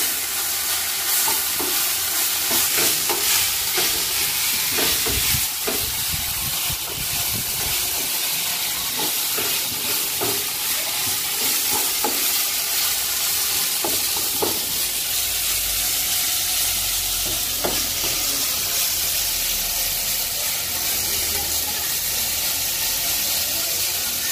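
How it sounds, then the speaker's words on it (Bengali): Jute leaves frying with salt and turmeric in a pan, stirred now and then, giving a constant hissing sizzle with scattered scrapes and knocks of the spoon, heaviest in the first half. "দিয়ে শাকের সঙ্গে নুন হলুদ ভালো করে মিশিয়ে দিচ্ছি।"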